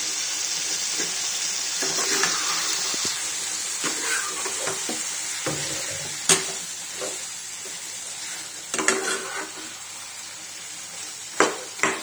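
Fried meal maker soy chunks stirred into masala in a pan: a constant soft sizzle under scraping spoon strokes, with a few sharper knocks near the end, close and without voices.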